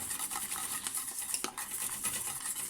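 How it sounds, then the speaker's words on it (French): A spoon stirs yogurt into a flan mixture in a bowl, giving a steady close scraping and clinking of utensil against the dish with no talking. "j'intègre voilà, le yaourt et je mélange"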